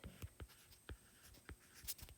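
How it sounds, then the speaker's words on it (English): A word is written out by hand, a quick series of soft scratchy pen or marker strokes, close and faint, with short pauses between strokes and no talking. "So let me write that down for you."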